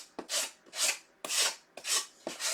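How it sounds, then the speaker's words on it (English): A sanding block rasps back and forth across the edges of scrapbook paper on a fan blade ornament, five steady strokes, close and clear with no talking. "And the sanding block"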